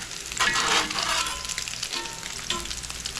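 Salmon fish cakes frying in hot oil make a loud, close, continuous crackle and spit that flares strongly in the first second and then settles into a steady sizzle.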